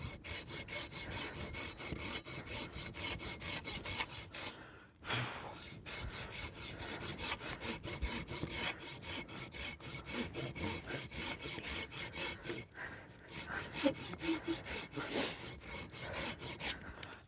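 A hand saw rasps steadily back and forth through a wobbling tree branch in quick, rhythmic strokes, pausing briefly twice before resuming.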